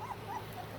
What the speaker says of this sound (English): These are Scarlett and Flame puppies